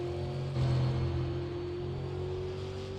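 A race car circles the track at Five Flags Speedway during an ASRL Super Series qualifying run, its engine a steady, fairly distant drone that rises slowly in pitch and swells briefly early on.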